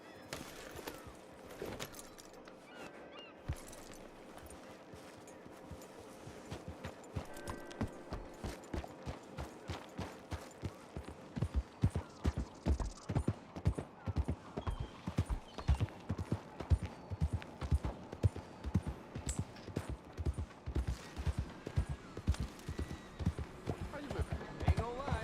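Horse hooves clip-clop in a steady, quickening rhythm while riding in Red Dead Redemption 2, growing louder and more regular as the horse picks up pace over a faint background.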